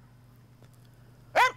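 A Finnish Spitz, a small fox-like hunting dog, gives one short sharp bark near the end after quiet background hum, sounding fairly close.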